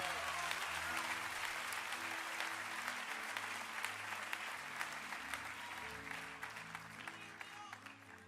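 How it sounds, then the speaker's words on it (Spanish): A church congregation applauds loudly and continuously, dense clapping with a few voices underneath and musical tones sustained in the background, slowly tapering toward the end. "Vamos a darle un aplauso a Dios fuerte."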